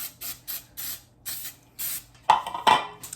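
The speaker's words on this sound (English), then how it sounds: "Just give that a good spray." Five short bursts of non-stick cooking spray hissing from a can in an even rhythm, followed by clattering of a pan or dish.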